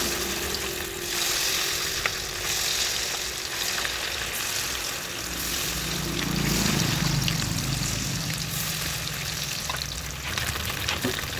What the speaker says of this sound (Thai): ตั้งกระทะใส่น้ำมันลงไปค่ะ รอ น้ำมันหอนเนาะค่ะ เดี๋ยวเอาไก่ลงค่ะ เอาไก่ลงเลยจ้า น้ำมันร้อนแล้ว